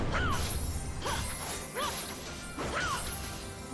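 A chunk of a boss in Odin Sphere Leifthrasir crashes down in a string of heavy smashes, with several loud impacts spaced roughly a second apart, each followed by a bright ringing tone.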